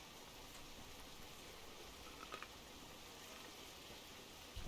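Steady rain falling in the fishing game Russian Fishing 4 at the Old Burg location, a faint, even wash of noise with a couple of small ticks.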